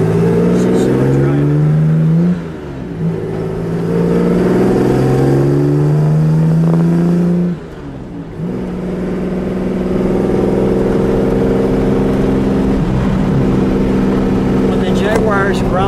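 A 1962 Jaguar E-Type Low Drag Coupe engine growls while driving, a loud, steady low drone that rises and dips with throttle changes, carrying on without talk.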